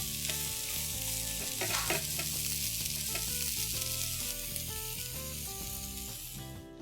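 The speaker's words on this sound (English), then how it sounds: "Cook the onions till they go soft." Onions and five cloves of garlic softening in a hot pan for onion chutney, giving a loud, dense, unbroken sizzle with occasional stirring scrapes close by.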